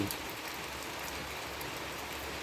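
Rain falls steadily on leaves and orchid plants, a dense, even hiss of drops that runs unbroken from start to finish with no voices.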